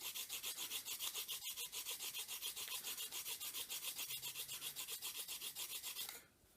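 A file puts a chamfer on cast model roof pieces in quick, regular rasping strokes that continue steadily for about six seconds before stopping, close and quiet.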